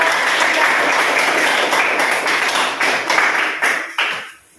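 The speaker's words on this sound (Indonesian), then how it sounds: "tepuk tangan dulu untuk kelompok" Applause from a classroom audience of students and teachers, a dense sustained patter of many hands clapping that fades out at the end.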